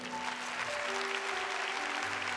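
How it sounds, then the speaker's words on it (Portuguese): A church congregation gives a firm round of applause in honour of Our Lady, a dense steady clapping that fills the room for a couple of seconds, with faint sustained tones beneath. "para Nossa Senhora, uma salva de palmas mais forte, por favor"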